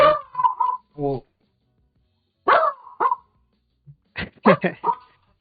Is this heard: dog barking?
yes